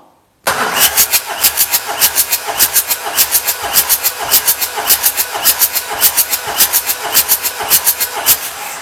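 A TDI diesel engine cranks on its starter during a compression test on cylinder one, a steady rhythmic churning of about thirty even compression beats over roughly eight seconds, loud and close with no talk.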